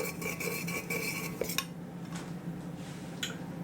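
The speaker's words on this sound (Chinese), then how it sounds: "加入30cc 的热水，把椰糖搅拌融化。" A block of palm sugar is stirred into 30 cc of hot water to melt it, giving light rhythmic clinks of a utensil against a small bowl, close and quiet, followed by fainter scattered taps.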